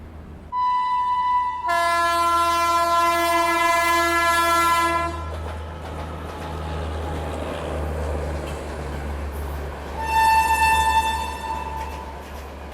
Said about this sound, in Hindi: सामने से कोई तो ट्रेन आ रही है।